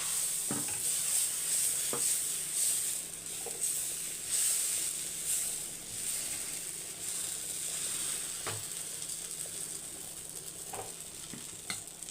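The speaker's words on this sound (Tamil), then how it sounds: "உங்களுக்கு தோசைக்கல்லும் ஹீட் ஆகிடுச்சு இப்போ தோசையை ஊற்றிக்கலாம்" Dosa batter spread on a hot griddle sizzles with a steady bright hiss, punctuated by a few soft taps of a ladle or spatula, close and fairly quiet, with no talking.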